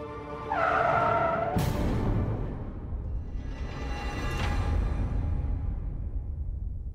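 A car brakes hard and skids to a stop, its tires squealing loudly for about a second before a broad rumbling skid and engine noise carry on, close and loud.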